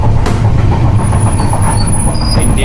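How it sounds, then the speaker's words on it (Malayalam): Continuous loud rumble and rattle of a fast-moving train, heard from inside a passenger carriage on a private train tour in Kerala, steady throughout with no talking. "ഇപ്പോൾ ട്രെയിൻ വിട്ടു, നല്ലപോലെ സ്പീഡുണ്ട്. അപ്പോൾ നല്ലപോലെ നോയ്സ് കേൾക്കാം"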